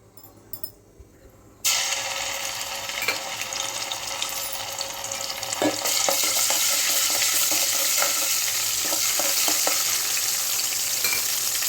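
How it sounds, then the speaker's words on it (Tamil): Ginger garlic paste frying in a little oil in a pan, a loud steady sizzle that starts abruptly after a quiet moment and carries on with occasional stirring clinks and scrapes. "அதே சட்டியில் லைட்டாக எண்ணெயை ஊற்றி கொஞ்சமாக இஞ்சி பூண்டு பேஸ்ட்டு போட்டுக்கலாம்."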